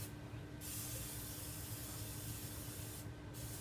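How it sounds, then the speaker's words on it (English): A close, fine spray of olive oil from a sprayer hisses continuously for about two and a half seconds, steady and airy, then stops. "So I'm just going to spray that on there."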